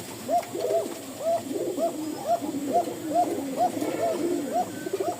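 Koka pigeons giving long, repeated cooing calls in a steady rhythm, several birds overlapping at close range.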